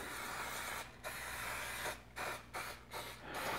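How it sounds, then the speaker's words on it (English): Cooking spray hisses in several short bursts onto a plaster press mold, with a longer spray first and then a few quick squirts, close and fairly loud against a low background hum. "Spray all this."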